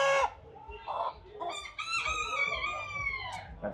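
A rooster at the Townsville Show crows once in a long, loud, strained call, preceded by short clucks from poultry nearby, with no talking.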